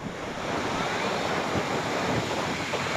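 Rough sea in the Bay of Bengal during a depression, with a continuous dense roar of surf and waves mixed with heavy wind buffeting the microphone and no talk.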